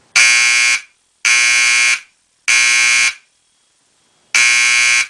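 A Simplex fire alarm horn sounds in code 3 temporal pattern: three loud, close blasts with short gaps, a longer pause, then a fourth blast starting the next round.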